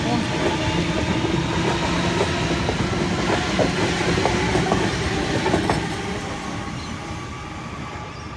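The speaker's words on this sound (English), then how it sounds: "We have a Tangara arriving onto platform 3 for an Epping service." A Sydney Trains Tangara set arrives at Eastwood station platform for an Epping service, a loud close roar of wheels with rhythmic clacking over rail joints that eases toward the end.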